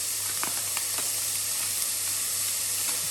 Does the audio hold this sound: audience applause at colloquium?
no